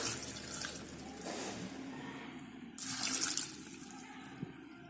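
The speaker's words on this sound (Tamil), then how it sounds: "கூடவே தண்ணி ஊற்றிடலாம்" Water pours into a cooking pot holding shallots, garlic and tomato, in soft splashing bursts close by: two brief gushes and then a fuller, louder pour, with no voices.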